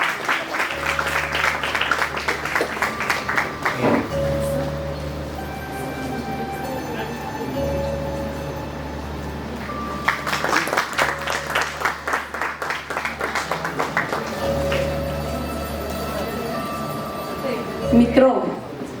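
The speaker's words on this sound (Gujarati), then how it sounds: "ખૂબ તાળીઓથી આપણે એમને વધાવી લઈએ." An audience at a music festival in Bilimora applauds a judge on stage in dense bursts of clapping that rise, fade and rise again. Sustained tones and a speaking voice sit beneath it.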